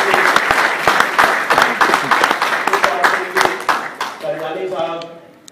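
Audience at an Amway platinum recognition event in January 2013 claps loudly, many sharp hand claps in a quick, near-rhythmic run that thins out toward the end as a voice begins speaking.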